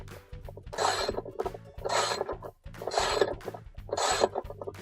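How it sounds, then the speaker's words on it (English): A socket wrench ratchets a screw tight on a Whirlpool washer, giving four evenly spaced bursts of rasping, clicking strokes, close and moderately loud, with no talking. "tighten it back up with your socket wrench"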